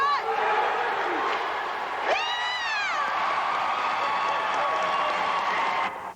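A crowd cheers and roars at a Flyers alumni charity hockey game, a loud sustained wash of voices with a bright whistle-like tone that rises and falls partway through.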